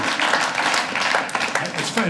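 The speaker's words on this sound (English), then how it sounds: "Clap if you've ever done it." Comedy club audience breaking into dense, steady applause that fills the full stretch at close range, with scattered cheers and whoops over the clapping.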